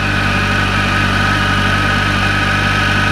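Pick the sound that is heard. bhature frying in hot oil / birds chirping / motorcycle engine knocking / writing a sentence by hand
motorcycle engine knocking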